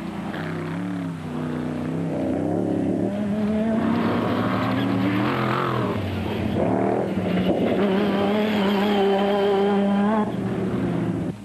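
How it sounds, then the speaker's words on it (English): A Jimco off-road race truck with a 7-litre engine ploughs through water during the 2007 Toyota Dealer 400 desert race, its engine roaring loud and sustained with rising and falling revs, close and continuous throughout. "Musaji gingerly piloted the Jimco with its 7-litre engine through the H2O"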